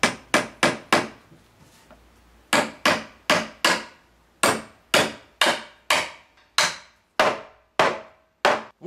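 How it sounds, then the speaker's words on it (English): Hammer blows drive nails into a wooden bookshelf, a series of sharp, loud, close strikes in quick bursts separated by short pauses, with no talking. "grab your hammer, grab your nail, and just start pounding the wood with complete disregard."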